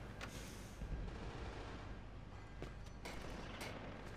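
Gunfire and explosions sound in the Splinter Cell video game, with repeated sharp shots and booms over a dense, faint rumbling battle background.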